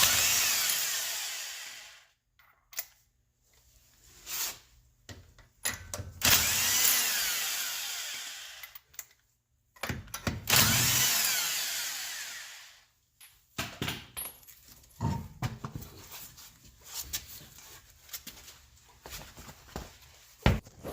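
A power tool spins lug nuts off the driver's side wheel of a 1991 Nissan 300ZX twin turbo in repeated loud whirring bursts separated by pauses, with rattles and handling clatter between them.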